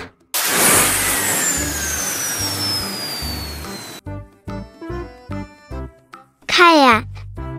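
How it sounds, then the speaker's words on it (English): A jet pack gives a loud whooshing engine roar with a descending whine for about four seconds, then stops; short musical notes and a brief warbling voice-like sweep follow. "Jet pack."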